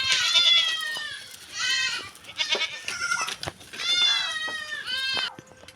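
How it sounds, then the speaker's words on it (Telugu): A young goat kid bleats repeatedly for its departing mother, a run of loud, close, wavering cries with short gaps between them. "వాళ్ళ అమ్మలు అయితే వెళ్ళిపోతున్నారని అరుతున్నాయండి మా మేకపిల్ల"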